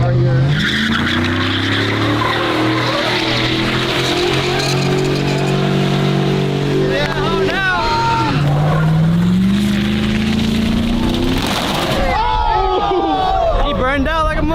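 A vehicle does a burnout at a street race, the engine revving hard and droning with rising pitch while tires squeal and skid, loud and close, with crowd noise and voices around it.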